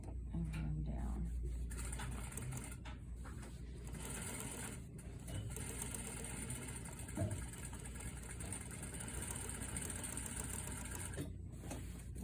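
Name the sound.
sewing machine stitching a placket sample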